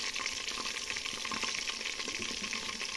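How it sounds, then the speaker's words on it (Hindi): Garlic and tomato sizzle steadily in ghee in a pan for village-style saag, with a spoon stirring through the constant, close frying hiss. "लहसुन और टमाटर ऐड कर रही हूँ। ये देखो, और चम्मच से अब इनको हिलाएंगे।"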